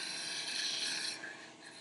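A rough woodturning cut on a lathe with the tool losing bevel contact while turning tiny Christmas trees, a loud, close, continuous rasping scrape that eases slightly toward the end.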